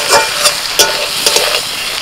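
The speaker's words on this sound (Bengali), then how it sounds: "মশলার সাথে ডিমটাকে একটু নাড়াচাড়া করে নেব।" Sizzling frying of fried egg in masala, with a spoon or spatula stirring and scraping through it in quick, uneven strokes, close and loud.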